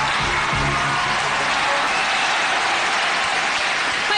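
An audience applauds to welcome a singer onto the stage. Dense, even clapping fills the whole stretch like steady rain, with a few low thumps at the start and no speech over it.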